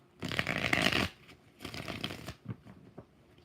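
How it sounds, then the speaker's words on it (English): Tarot cards are shuffled by hand in bursts of crisp, rapid riffling, one long shuffle followed by a shorter one and a few soft taps, close and clear with no talking. "4 shuffles"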